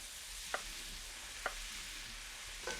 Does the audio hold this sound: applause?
no